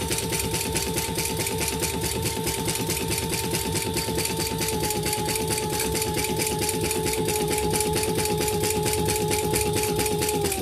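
A sewing machine stitches around the box corner of a toiletry bag, a loud, close, rapid and even mechanical chatter that runs without pause under a steady whine.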